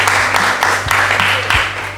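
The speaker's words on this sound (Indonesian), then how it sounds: "Sekali lagi kita tepuk tangan untuk kelompok 4" Classroom audience clapping for a student presentation group, a steady wash of hand claps filling the room over a low electrical hum, with a few sharper bursts along the way.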